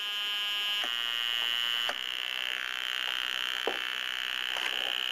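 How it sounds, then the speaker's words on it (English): Electronic noise maker circuit giving a continuous high-pitched squeal as its resistance is changed, the piercing whine shifting in pitch with a few faint clicks, steady and fairly quiet throughout. "I don't know if you can pick that up, a high-pitched squeal"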